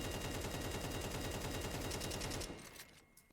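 Rapid automatic gunfire rattles continuously in a recoil training mode on a Faceit-style workshop map of a shooter game, dense and loud for over two seconds, then cuts off and fades.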